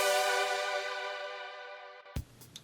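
A sustained synth air chord played an octave higher than the opening chord of a progression, one bright, dense pad that rings alone and slowly fades over about two seconds before a few short clicks.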